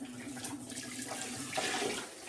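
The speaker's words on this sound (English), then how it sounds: "I'm just going to rinse out the majority of the soup that is in here before I wash it" Water runs into and sloshes around a Pampered Chef Deluxe Cooking Blender jar as leftover sweet potato soup is rinsed out, giving a steady close splashing hiss with a brief louder surge partway through, with no talking.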